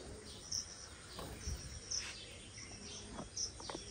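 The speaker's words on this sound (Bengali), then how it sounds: "শুনেছো সকালবেলা কত রকমের পাখির ডাক?" Morning birdsong from several kinds of birds, faint scattered chirps and whistles at varying distance over a soft background of insect hum.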